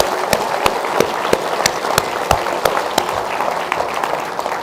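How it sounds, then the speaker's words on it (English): A round of applause for the cooks who made 300 pounds of chicken at an outdoor evening event. The clapping is steady and moderately loud, with a few sharper claps standing out throughout. "we need to give those cooks another great round of applause"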